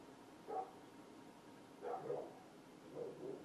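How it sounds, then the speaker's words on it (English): Dogs barking in the distance, three faint, spaced bursts of muffled barks and yips over a quiet room background. "The dogs are having a chat."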